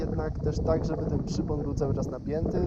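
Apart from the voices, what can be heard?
No everyday noises stand out.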